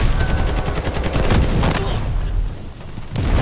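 Rapid bursts of automatic gunfire from the video game Delta Force, loud and continuous for a few seconds, with a short lull and another shot at the end.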